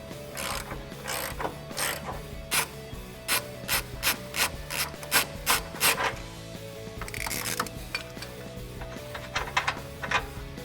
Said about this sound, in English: we're gonna be removing the nut right underneath the one that we just loosened. So again, 21 millimeter socket,